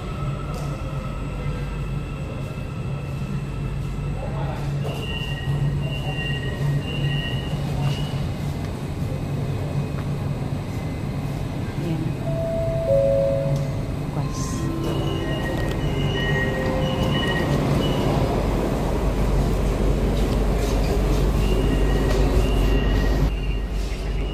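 An MRT train arrives and runs through a station, with a continuous loud rumble of wheels on rails, occasional squeals and tonal motor whines rising and falling over the whole stretch, and no talking.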